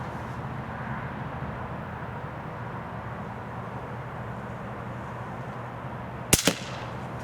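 A single sharp report of a .22 Short rifle being test fired outdoors, quiet and brief, stands out once near the end against a steady low background hum, with no talking.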